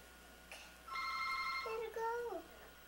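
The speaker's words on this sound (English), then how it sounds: "Courtney, can you answer the phone?" A telephone rings indoors, a short electronic ringtone of stacked steady tones followed by a gliding melodic tone, moderately loud, with a voice briefly nearby.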